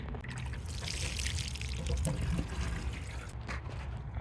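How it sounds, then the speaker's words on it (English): Water pours and trickles onto the soil around a newly planted strawberry plant in a garden bed, a close, steady splashing stream with gurgling bursts that runs the whole few seconds. "Just gonna give it a drink of water."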